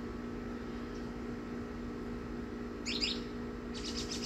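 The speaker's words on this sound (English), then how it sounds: "A lot of birds in this area." Birds around backyard bird feeders give two brief chirping bursts near the end, faint against a steady hum of background noise, with no talking.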